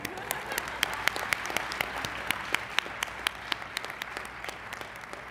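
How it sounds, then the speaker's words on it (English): Audience applause at a student academic excellence awards ceremony: a moderate crowd clapping with distinct individual claps standing out, steady throughout at fairly low level, without speech. "Okay, you may clap."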